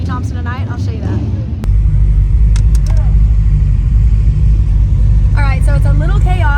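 A custom car driving out of the SEMA parade, its engine rumbling low and loud under excited voices talking over it, with a quieter stretch at the start.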